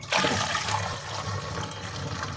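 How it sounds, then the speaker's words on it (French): Homemade soy milk boils in a pot on the stove, giving a steady, fairly loud bubbling and rushing hiss close by throughout, with no one talking. "Et là, ça bout."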